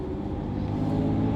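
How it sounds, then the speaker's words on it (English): A Ferrari 599's 6-liter V12 idles and runs steadily with a deep, loud exhaust rumble, close by and unbroken, with no talk over it. "Obviously, big 6-liter V12."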